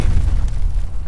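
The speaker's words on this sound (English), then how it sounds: "Atom bomb, baby." Atom bomb explosion heard as a loud, deep booming rumble that rolls on continuously for about a second, dense and close with no voices over it.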